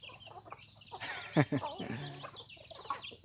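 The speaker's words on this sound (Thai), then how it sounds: "นี่ครับ นี่ไก่ครับ" Domestic backyard chickens clucking close by in a few short bursts, with people talking over and around them.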